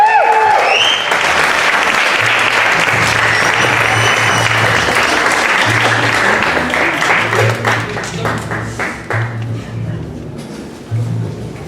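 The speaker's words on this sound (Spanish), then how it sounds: "Y un fuerte aplauso para Martín Fernando Herrera Hernández." A crowd applauding an award winner at a ceremony, loud sustained clapping for several seconds that thins out and fades toward the end, with a low rhythmic music beat underneath.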